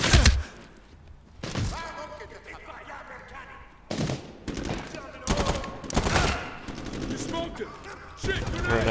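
Rifle gunfire in the Medal of Honor: Warfighter video game, loud bursts of shots crackling in uneven volleys, each sharp blast ringing out with intervening gaps, sounding up close.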